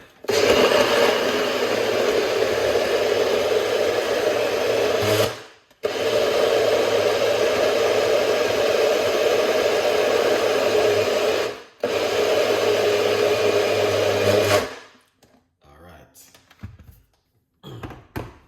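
A blender whirs loudly while making beetroot juice, running in three long steady bursts of about five seconds each with short pauses between them, then stopping to near silence.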